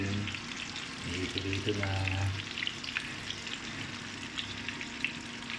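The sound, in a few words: KFC-style chicken frying in oil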